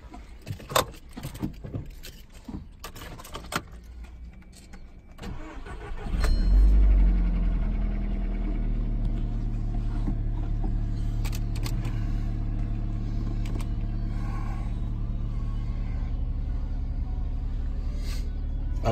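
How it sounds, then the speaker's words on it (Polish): Keys jangle and click near a VW car before its engine cranks and catches with a loud surge, then settles into a steady, low idle hum that runs to the end. "Kannst du starten, Motor, oder?"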